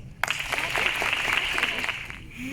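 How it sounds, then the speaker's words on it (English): An audience at a school career day breaks into applause, a dense burst of clapping starting abruptly, holding steady for about two seconds, then fading out. "Round of applause."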